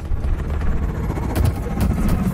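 Helicopter in the video game Call of Duty: Advanced Warfare, a steady dense rotor-and-engine roar filling the clip with low rumble and some sharper bursts, loud and close with no talk over it.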